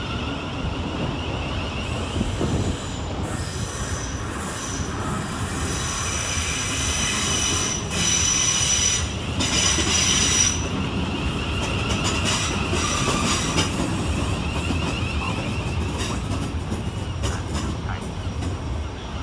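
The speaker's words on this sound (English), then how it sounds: "Next in for arrival is 707001 and 707029, working the 1240 Southeastern service from Hayes to London Charing Cross" Southeastern Class 707 electric multiple unit arriving at London Waterloo East station, a steady rolling rumble with high, sustained wheel squeal rising and fading over the pull-in, loud and close on the platform.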